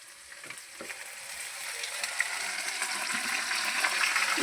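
Gongura leaves frying in a pan of oil after ginger, a steady broadband sizzle that slowly grows louder, with faint stirring scrapes and small ticks and no voices.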